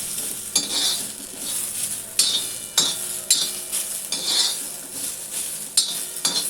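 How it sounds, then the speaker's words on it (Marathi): Chopped onion roasting in a pan gives a soft continuous sizzle, broken by repeated scraping strokes and clinks of a spatula against the pan at an irregular rhythm. "कांदा आपल्याला थोडा पिंक होईपर्यंत भाजून घ्यायचा आहे"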